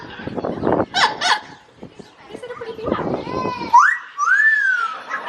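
A male Amazon parrot makes chuckling and whistling sounds, with rising and falling tonal whistles near the end, mixed with people talking around it.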